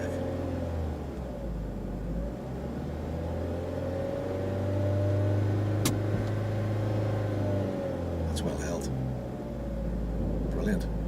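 A learner's car pulls away during a driving lesson, with a steady engine hum that swells slightly as it moves off, heard from inside the car under an instructor's talk.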